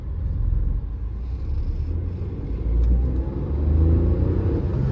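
Tata Nexon XE base model, a 2023 pre-facelift car in sport mode and first gear, with its engine droning low and steady as it pulls away, the rumble swelling slightly toward the end.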